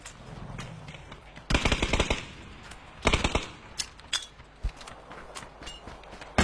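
Video game gunfire in a team match: two loud bursts of rapid automatic fire, then a string of scattered single shots that sound nearer or farther, with no speech over them.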